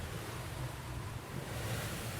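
Wind and sea waves wash around a solo sailboat at sea, a faint, steady rushing hiss with low buffeting gusts and no voices.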